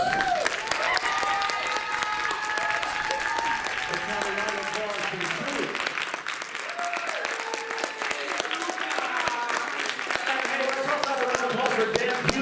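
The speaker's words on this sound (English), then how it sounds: "So let's have a round of applause for our seniors." An improv show audience applauds seniors with sustained, dense clapping mixed with cheering voices, steady and loud for the whole stretch.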